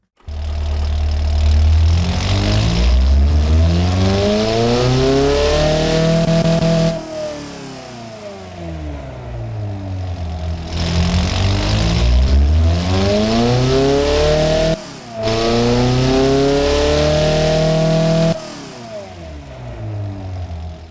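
A 1.6-liter car engine in a video game revs up and down repeatedly, climbing to high pitch and falling back, loud and close, with brief drops to a lower drone.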